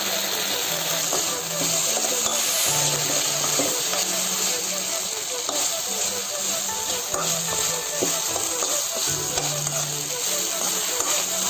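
Fried egg 65 pieces coated in tomato ketchup are stirred in a hot pan, a continuous close sizzle with soft scraping and rustling from the spoon and a faint steady hum behind it.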